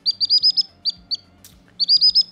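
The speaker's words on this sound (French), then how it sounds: "ce fichier d'un oiseau qui chante" A songbird sings in a recording played back, giving quick bright chirps in short trilled clusters with gaps between them. The sound is clear and close, with no speech.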